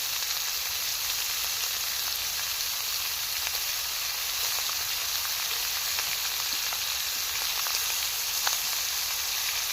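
Vegetables sizzle and fry steadily in a hot pan for chicken vegetable soup, a continuous close hiss with faint scattered crackles and no talking.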